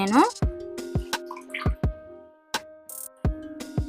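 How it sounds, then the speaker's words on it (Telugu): Colostrum milk is poured into a vessel for making milk cheese, with close wet plops and drips sounding in short uneven bursts over a faint steady hum. "ఈ 1/2 లీటర్ జున్ను పాలు ఇందులో వేసేస్తున్నానండి."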